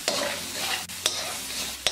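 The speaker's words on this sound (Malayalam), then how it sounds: "ഇനി ഇതിലേക്ക് നമ്മൾ ഈ അരച്ചു വെച്ചിരിക്കുന്ന ചില്ലി പേസ്റ്റ് ഇട്ട് ഇളക്കി കൊടുക്കാം" Ground chilli paste is stirred in a hot frying pan for chilli paneer, sizzling steadily while a spoon scrapes the pan in three sharp strokes roughly a second apart.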